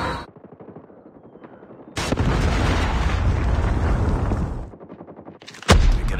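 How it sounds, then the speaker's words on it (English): A Predator missile strike in a shooter video game sets off a long, loud roaring explosion and rumble, framed by rapid bursts of automatic gunfire before and after, with a sharp crack near the end. "Predator missile inbound."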